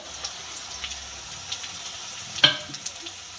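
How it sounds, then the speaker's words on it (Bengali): Onions and slit green chilies fry in oil for masoor dal with cauliflower stems, giving a soft, steady sizzle with one sharp utensil clink partway through. "এবার পেঁয়াজ লঙ্কা খুব ভালো করে একটু ভেজে নেব"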